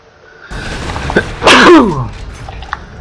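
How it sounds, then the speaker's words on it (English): A single loud, close sneeze bursts out mid-clip over a low background hum, with a brief sharp breath before it and quieter game sounds trailing after. "If I sneeze, but there's no one to say Gesundheit or God bless you"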